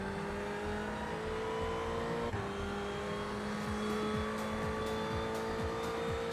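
A race car engine in the sim racing game iRacing holds a steady, loud drone, then pulls through a series of rising gear-change sweeps near the end, with no talk over it.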